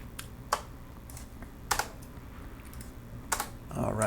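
Typing on a computer keyboard, a few sharp isolated key clicks spaced apart, close and fairly quiet, with a brief rustle at the end.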